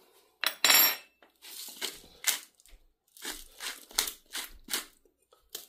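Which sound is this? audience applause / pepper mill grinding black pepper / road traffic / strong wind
pepper mill grinding black pepper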